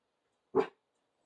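One short, sharp dog bark sounds in otherwise near silence.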